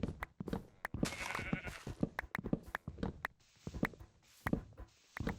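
Sheep bleating in the video game Minecraft, several short bleats repeating over footsteps and busy game sounds, fairly close and moderately loud.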